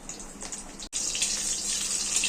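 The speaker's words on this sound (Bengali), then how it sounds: "কাঁচা লঙ্কাগুলো ফাটিয়ে দিয়েছি তবুও ফাটবে" Green chilies and black cumin seeds sizzle in hot oil with a loud, steady hiss, broken by one brief dropout before the frying noise resumes.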